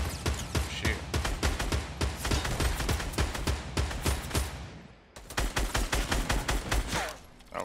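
Fortnite Battle Royale gunfire comes in rapid, dense bursts of loud repeated shots. It stops briefly and then resumes as another sustained volley.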